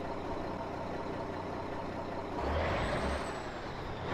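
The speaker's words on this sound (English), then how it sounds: "nice turbo noises." In American Truck Simulator, a thin rising turbo whistle sweeps high over a steady, rumbling Mack truck engine drone, fading after a couple of seconds while the engine continues.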